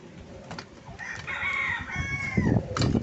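Turkeys gobble close by outdoors, a warbling call rising in the middle over rough ambient noise.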